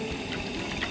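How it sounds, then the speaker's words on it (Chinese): Cooking oil poured into a wok while preparing spicy stir-fried eel, a steady close pouring and trickling liquid sound that runs unbroken for the whole second. "倒油"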